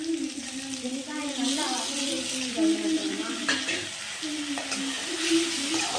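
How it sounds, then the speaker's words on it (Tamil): Ginger garlic paste sautés with onions in a hot pan, giving a steady sizzle and frying hiss broken by scraping stirs of a spoon, while someone talks over it. "இஞ்சி பூண்டு பேஸ்ட்டு போட்டு கொஞ்சம் வதக்கிடணும்"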